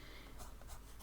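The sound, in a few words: pen writing a quote by hand on paper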